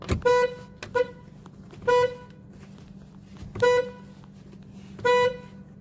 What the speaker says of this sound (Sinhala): හෝන් එක වැඩ කියන්නේ හරියට වැදිලා තියෙන්නේ.